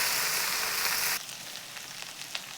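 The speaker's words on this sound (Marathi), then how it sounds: "छान आपण भेंडीला तेलामध्ये मस्त परतून घेऊयात" Okra sizzles in hot oil for a green chilli stir-fry, a loud steady frying hiss that cuts off suddenly partway through, leaving quieter scattered crackles and pops.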